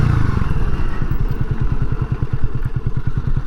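A rebuilt Honda CB250RS motorcycle engine idles close by in an even, loud, lumpy putter, with a steady low thumping pulse throughout.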